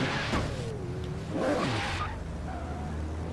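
Aston Martin One-77 in Forza Horizon 3 on a third-gear launch control start, engine held at high revs then surging with whooshing pitch sweeps and a brief tire chirp, loud and close.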